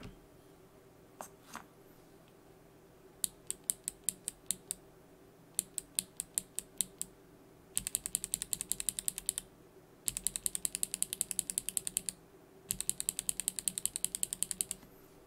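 Keys clack on a mechanical keyboard fitted with Box Navy switches, sharp crisp clicks in bursts of steady rapid strokes, close and alone.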